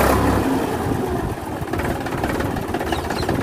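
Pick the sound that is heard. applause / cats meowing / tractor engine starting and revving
tractor engine starting and revving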